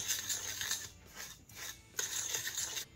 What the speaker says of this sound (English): Going to give it a quick stir until it's well combined, until it forms wet sand.